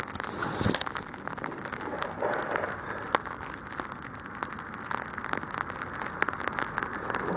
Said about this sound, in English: Can you hear the snow hitting the hood?